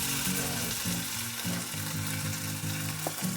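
Oyster sauce hits a sizzling backyard stir-fry, a loud continuous frying crackle and hiss with stirring, over low background music and no speech.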